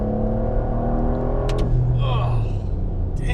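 Porsche 992 GTS fitted with a Soul Performance exhaust, accelerating hard with a loud, steady engine roar that rises in pitch through the run, heard up close from inside the car.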